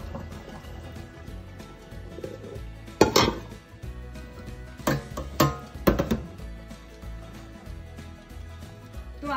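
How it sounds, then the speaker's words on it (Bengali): Parboiled rice tipped out to drain its cooking water, heard as a few loud clanking knocks of a metal pot and lid with splashing bursts around them, over a low steady background. "এবার আমি এই জলটাকে ঝরিয়ে নেব"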